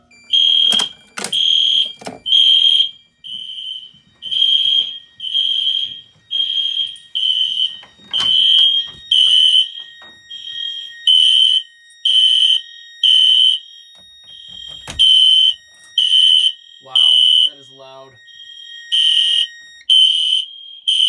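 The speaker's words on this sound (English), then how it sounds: "These two, the two system sensor horns are synced together." Two synced System Sensor fire alarm horns sound after a pull station is activated during a home alarm system test: a loud, steady run of shrill, evenly pulsed blasts that continues throughout, with a few clicks and knocks between them.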